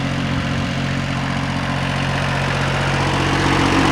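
A tractor engine, its tank holding debris, runs at night in a field with a loud, steady, continuous low drone that holds even throughout, with no voices.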